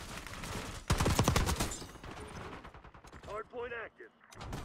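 Burst of rapid gunfire in a Call of Duty match, loud and close, followed by mechanical clatter and a brief voice near the end.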